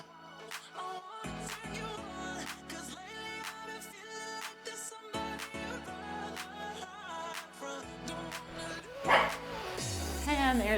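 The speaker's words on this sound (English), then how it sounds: "there's my dog" A pet dog gives a few short barks and yips, fairly faint, beneath steady upbeat music during a home kettlebell workout.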